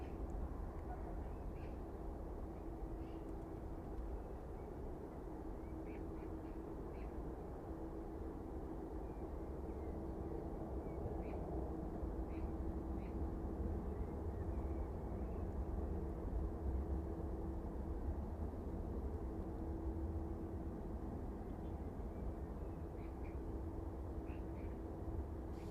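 An aircraft departs East Midlands Airport in the evening. Its engines make a faint, distant, steady rumble and drone that lasts throughout, with no talk over it.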